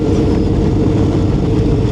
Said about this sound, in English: It's that 180-degree twin boxer engine.